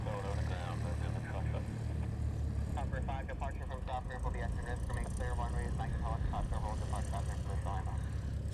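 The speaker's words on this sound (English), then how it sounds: "we have a 717 coming out to the reef runway" A Boeing 717 airliner taxis toward the reef runway at Honolulu airport, its engines giving a steady, fairly distant drone beneath a person talking.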